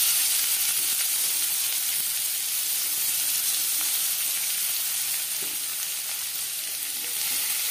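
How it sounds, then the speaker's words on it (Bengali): Chopped onions sizzling in hot oil left over from frying fish, a loud, dense, continuous hiss and crackle filling the whole stretch without pause. "মাছ ভেজে নেওয়া তেলে দিয়ে দেব পেঁয়াজ কুচি"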